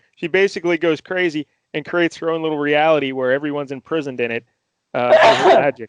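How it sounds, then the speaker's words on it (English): A single abrupt sneeze bursts out near the end, right after a stretch of someone talking in a close, indoor setting. "I just sneezed."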